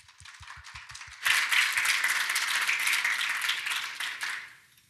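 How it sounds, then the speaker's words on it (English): An audience breaks into sustained applause to welcome a speaker at a talk on open technology for land rights, after a few quiet thumps, loud dense clapping then tapering off. "Please welcome her with your applause."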